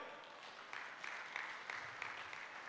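Audience at a Hyderabad economic talk claps steadily in a quiet, distant patter of many hands, with slight swells throughout.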